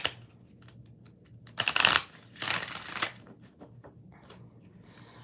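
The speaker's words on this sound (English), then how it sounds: "Last shuffle." Tarot cards are shuffled in two quick riffling bursts, each about half a second long, close and crisp against a quiet room.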